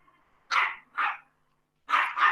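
Small pet dogs bark indoors, two quick yaps, then a pause, then another pair of barks, fairly close and loud with no talking over them.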